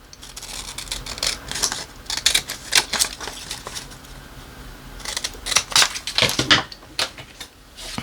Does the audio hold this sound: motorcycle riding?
no